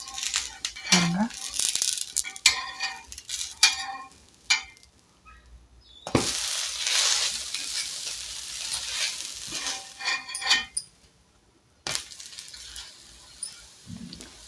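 Adai dosa cooks on a hot pan in bursts of close sizzling and scraping as it is flipped, with quieter gaps and brief clatters, and someone talks over parts of it.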